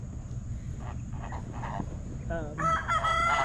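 A rooster crows near guinea fowl foraging in the woods on a small farm, its call rising loud and harmonic toward the end after quieter clucking and rustle.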